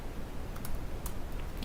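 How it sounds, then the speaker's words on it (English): Brief quick taps on a computer keyboard while writing code, a few light clicks over a steady room hiss, close and fairly faint, with no talk. "let's try typing"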